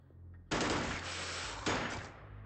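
Two bursts of automatic gunfire in the video game Xenonauts, each a sudden loud rattling volley that abruptly starts over a quiet background hum.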